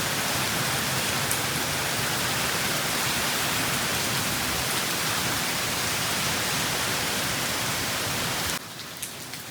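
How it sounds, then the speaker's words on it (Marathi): Heavy Konkan rain driven by strong wind pours down in a dense, roaring wash of drops, loud and unbroken before abruptly cutting to quiet near the end. "पाऊस वारा पण खूप आहे."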